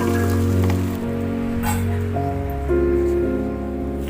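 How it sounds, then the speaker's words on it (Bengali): Water drains off boiled rice cooked to about 80% for chicken biryani, a steady rushing splash that runs without pause for the whole stretch, with a tonal background running beneath it. "এবারে আমি জলটা ঝরিয়ে নেব।"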